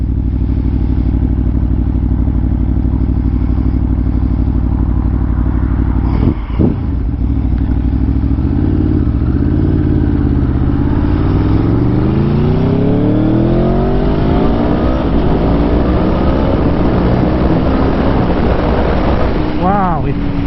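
An Aprilia Tuono motorcycle engine, tuned by a racing team, idles with a loud steady drone, then revs climb repeatedly through rising sweeps as gears shift, close and powerful throughout.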